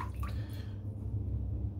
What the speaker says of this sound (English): All I'm doing here is just rinsing out the soap in the water.